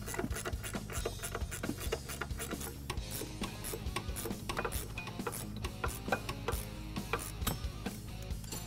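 A wrench works the lock nut off the top of a Ford Bronco front shock, giving a faint, steady run of fine ratcheting ticks and small metallic scrapes close by.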